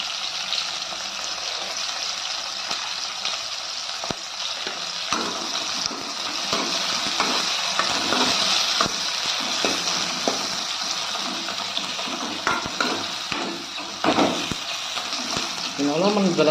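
Onions and green chillies sizzle in a pan for a chicken liver dish, with a steady hiss throughout and clinking stirring sounds. A voice is faintly heard in places.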